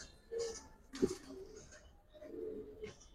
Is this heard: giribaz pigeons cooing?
yes